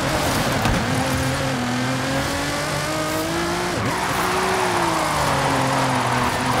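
A Nissan GT-R sports car engine revs and holds high, pitch rising and dipping with a sharp gear change midway, loud and close with faint tire noise.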